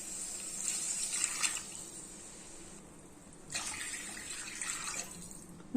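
Water is poured into a potato and prawn curry in two bursts, a soft splashing gush near the pan, pausing briefly before the second pour.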